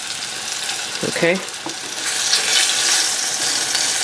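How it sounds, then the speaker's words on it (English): Cauliflower sizzling and crackling steadily in oil in a frying pan, with a brief spoken word near the start and the frying growing a little louder afterward. "So we're just gonna fry."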